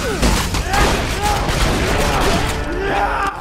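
Rapid gunfire from the Borderlands 2 video game, dense overlapping bursts and shots running continuously and loudly throughout, with game effects layered underneath.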